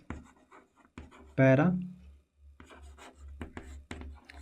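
Short scratchy strokes of writing on a classroom board during a biology lesson, coming in quick irregular bursts, with a teacher's voice briefly heard among them.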